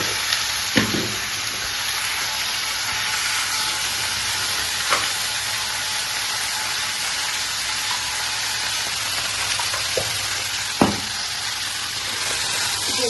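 Potatoes and other food sizzle steadily in a pan on a home stove while a utensil stirs, with a few sharp scraping clicks against the pan over the constant hiss.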